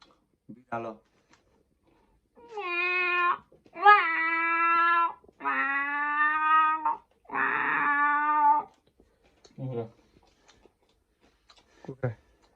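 A man imitates a cat with his voice, giving a string of close, harmonic meows and wails of varying length, some drawn out and some short, with brief pauses between them.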